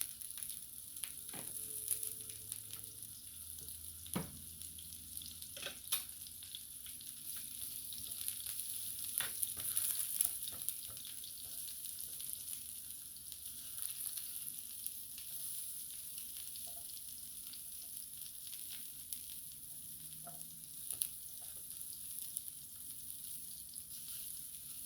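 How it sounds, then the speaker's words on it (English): Onions sautéing in a little oil for a Philly cheesesteak, a steady close sizzle and crackle that runs the whole time, with occasional stirring clanks and light taps and no talking. "Go ahead and saute our onions."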